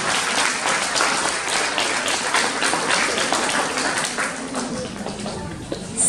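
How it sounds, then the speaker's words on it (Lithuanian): Sustained applause fills a school hall for the musicians, dense steady clapping from a large audience lasting throughout, fairly close and even in loudness. "Plojimai visiems salėje esantiems muzikantams."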